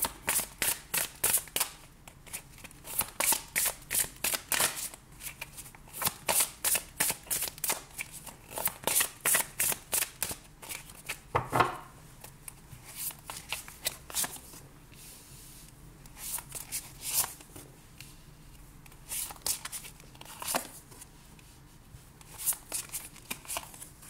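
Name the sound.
shuffling tarot cards for a reading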